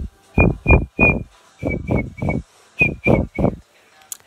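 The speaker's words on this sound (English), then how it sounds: "I can whistle. Listen." Someone whistles a short run of notes, about nine chirpy tones in a few quick phrases with brief pauses between them, close and fairly loud.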